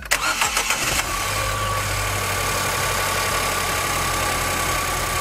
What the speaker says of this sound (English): Okay, so let's start the engine.